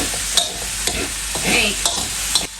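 Pork for pad see ew stir-fries in a hot wok, a constant loud sizzle broken by a few sharp scrapes and clacks of the spatula against the metal.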